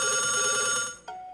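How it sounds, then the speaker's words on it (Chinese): A telephone bell rings in a sustained, bright trill that cuts off, followed by a brief second burst of ringing, close and loud without talk. "我要接电话了"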